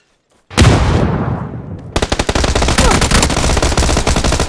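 Gunfire in PUBG: a loud blast with a ringing tail, then a rapid, sustained run of automatic shots close by, harsh and continuous to the end.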